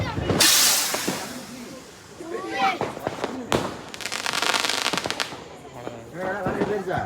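Several sharp firecracker bangs and fizzing crackles at a Diwali celebration, one loud burst followed by hissing and rapid pops, with people talking and shouting nearby.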